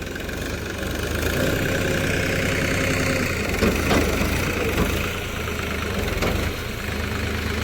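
A farm tractor engine runs steadily nearby while spreading organic manure on a field, a continuous low idling drone with a faint knocking rhythm and no pauses.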